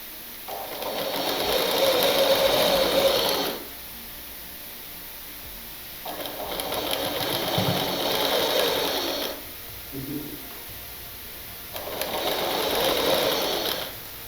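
Three long runs of a sewing machine stitching a rolled petticoat hem whir and rattle mechanically up close, separated by short pauses with light handling of the fabric.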